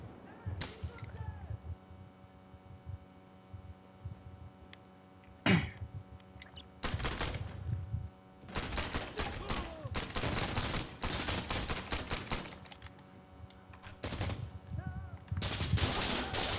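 Gunfire in the video game Insurgency: Sandstorm, with sharp bursts of shots and rapid automatic volleys in separate clusters, loud and close, between quieter stretches of low ambience.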